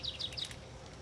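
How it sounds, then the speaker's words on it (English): Birds chirp outdoors in a short series of three quick high tweets near the start, faint and somewhat distant over a low background hum, then the air goes quiet. "This is a great spot to see birds and to hear birds."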